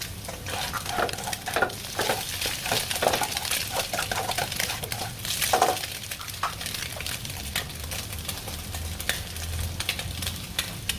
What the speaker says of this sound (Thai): เสร็จแล้วก็ใส่กระเทียมนะครับ ลงไปผัดคั่วกับไข่ดาวเลยนะครับ